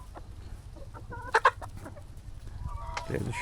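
Domestic hens cluck on a home farmyard while being fed scraps of meat, with a couple of short, louder clucks standing out over a low background and scattered quieter clucking.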